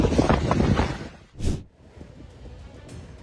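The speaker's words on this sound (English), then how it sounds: "strong winds gust near 70 kilometers per hour" Strong wind gusting near 70 kilometers per hour as a wildfire spreads north of Castaic in Los Angeles County, a loud broadband roar with a sharper gust surging briefly midway, then easing to a steadier rush.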